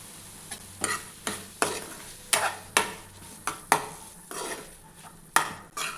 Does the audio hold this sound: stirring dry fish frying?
yes